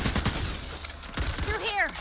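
Rapid gunfire in the video game Back 4 Blood crackles in quick bursts amid game effects, moderately loud, with a voice briefly heard alongside.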